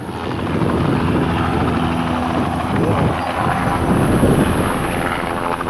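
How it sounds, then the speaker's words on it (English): Helicopter rotor blades thudding loudly and steadily overhead while herding elephants in the wild, a continuous dense chop with wind rush throughout. "helicopter rotor blades slicing through the air"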